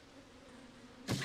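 A swarm of bees buzzes around a beehive sword in Zelda: Tears of the Kingdom. A faint, steady drone holds throughout, then a short loud burst of buzzing rises near the end.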